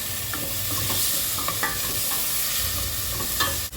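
Onion, ginger and tomato sautéing in a pan for clams, with steady close sizzling and repeated scraping stirs across the whole stretch, no voices.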